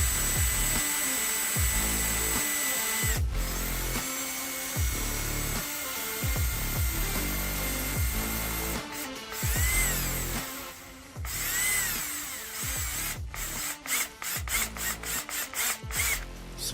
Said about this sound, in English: You got to be very careful when you drill a hole through this.